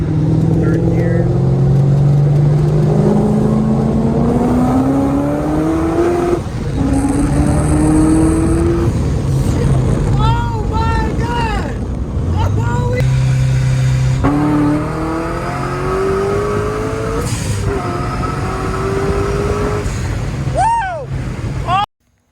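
An 800hp C6 Corvette is driven hard through a third-gear highway pull, its engine roaring loud and close with rising, revving pitch sweeps across repeated bursts of acceleration, while voices talk over it.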